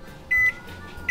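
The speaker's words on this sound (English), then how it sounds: "Spotted Dick is in the microwave." A microwave oven heating a Spotted Dick pudding gives two short, clear electronic beeps over a low, steady hum.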